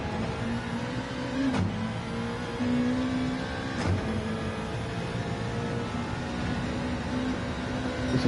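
A racing video game car engine holds a steady, loud drone with harmonic bands and a couple of sharp shifts, revving back on the throttle after coming down a hill and cutting a corner.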